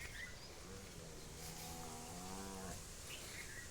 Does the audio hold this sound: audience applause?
no